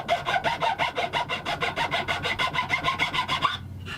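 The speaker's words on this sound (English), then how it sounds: "I'm going to carefully file away until I get down to my pencil line." A rasp files wood down to a pencil line while shaping a router template, making steady rhythmic rough scraping strokes, about four or five per second, close up and with no talking, before stopping.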